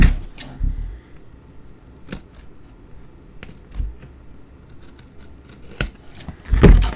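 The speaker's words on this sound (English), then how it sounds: "we're just going to snip that off" Several sharp scissor snips cutting small cardboard pieces off a card kit box, isolated crisp clicks spaced irregularly and close up, with quiet handling between cuts.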